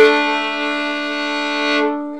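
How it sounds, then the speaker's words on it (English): A sustained bowed double stop of low A and open D sounding a fourth, two steady low notes held together for nearly two seconds before fading out. "Low A and open D together."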